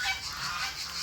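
A trio of Muscovy ducks with young on a grandfather's farm give a brief, breathy, hissing call up close, lasting about a second.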